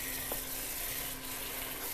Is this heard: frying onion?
yes